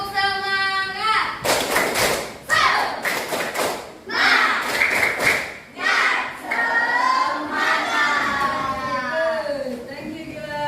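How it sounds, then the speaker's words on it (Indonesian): A classroom of children in a group activity does a rhythmic spirit clap, with bursts of quick unison claps and thumps between chanted voices, near and lively, then a teacher speaks. "Tepuk semangat."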